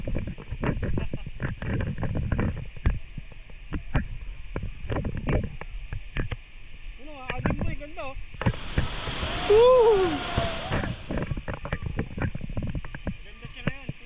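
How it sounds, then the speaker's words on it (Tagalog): Rushing water of a river or falls in Tanay, Rizal, a steady broad wash running under near, excited talk and a shout throughout. "Narinig ko na yung lagaslas. Lagaslas ng tubig."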